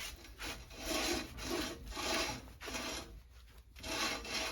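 Rhythmic rubbing strokes of a cloth scrubbing a hard surface, about five back-and-forth swipes, close and fairly quiet, no talking.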